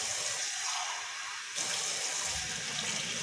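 Hot water runs steadily from a kitchen tap into a sink while a cup is rinsed, a dense continuous hiss that dips briefly and then resumes full strength, with no voices.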